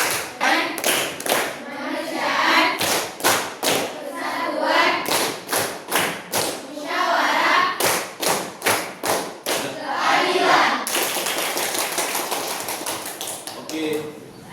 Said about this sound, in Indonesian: Tepuk Pancasila.